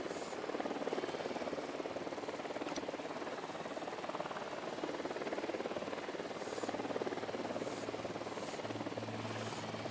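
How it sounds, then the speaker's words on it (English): Helicopter in the Ghost Recon video game, a steady droning rotor wash that holds loud and even throughout with no talking over it. "Chopper's approaching."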